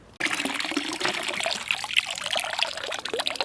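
Water trickles and dribbles steadily out of a Mosasaurus bath toy after a swim, a close continuous wet splatter with small drips standing out.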